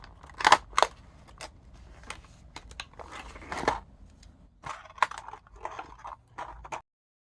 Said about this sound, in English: knife and I just cut the edge over here